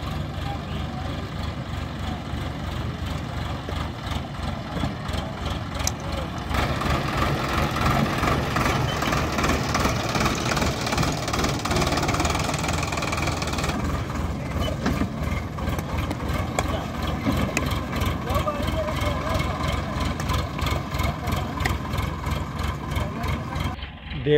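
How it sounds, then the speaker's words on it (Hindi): Tractor engine idling at a riverside ground where bulldozers are also at work, a steady, loud low rumble running throughout with a slight lift partway through and mechanical clatter on top. "ये ठीक है ट्रैक्टर।"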